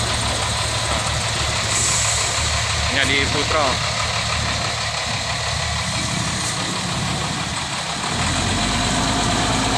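A long-distance intercooler bus engine idles with a steady low rumble close by, a brief beeping and rattle rising mid-way, while someone talks over it.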